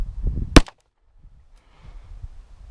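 A single sharp, loud report from an unsuppressed 5.7x28mm firearm firing Fiocchi ammunition outdoors at high elevation in cool weather, followed by a quick decay and faint background rustle.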